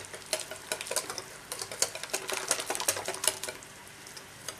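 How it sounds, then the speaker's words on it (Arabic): Basbousa batter of semolina and other ingredients being mixed by hand in a bowl, with a rapid run of soft scraping and tapping strokes at close range and no talk. "ايضا نمزج كما راكم تشوفوا كل خطوه راني نمزج فيها المكونات"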